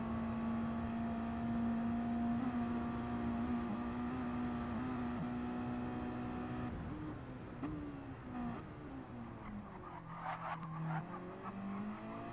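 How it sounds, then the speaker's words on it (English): A Mazda MX-5 Miata race car in a racing game on Deep Forest Raceway holds a steady, droning engine note up a straightaway, then the pitch drops and wavers as it lifts and the tires squeal. "Let's get a look at this car while it's running up the straightaway here."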